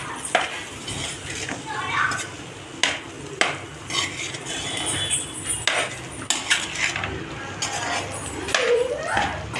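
Egg fried rice being mixed with coriander in a pan over a low flame, metal spoon clinking and scraping against the pan in repeated stirring strokes, with a faint sizzle and a voice talking intermittently.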